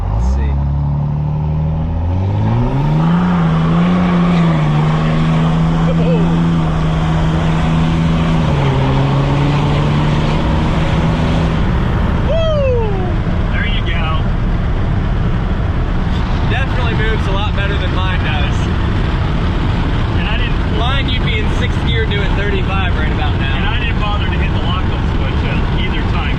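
A 3rd gen truck swapped to a 12-valve diesel engine runs loud and close, with a rough steady rumble that rises and settles as it is revved, while someone talks over it.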